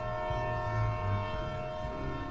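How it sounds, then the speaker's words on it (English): A train horn sounds in a long, sustained blast with steady harmonic tones, fairly loud and mournful, held throughout with a low rumble of the passing train underneath. "Ends with the haunting horn of a train."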